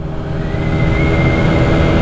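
A 50cc GY6 scooter engine runs steadily and loud, holding a high, slightly rising rev with a buzzy mid-range drone for about two seconds and no voices.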